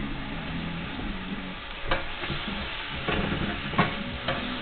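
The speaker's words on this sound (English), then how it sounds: "all we're doing with the shrimp, look how quick they're cooking" Shrimp for a seafood pasta sizzle and fry steadily in a hot pan, with a constant close crackle broken by a few sharp scraping and stirring knocks.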